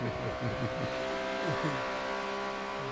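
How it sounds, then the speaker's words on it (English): A Corvette GT3 race car engine in a racing video game drones and shifts pitch continuously at high revs at Monza, steady and loud, with faint voices underneath. "This Corvette does sound good."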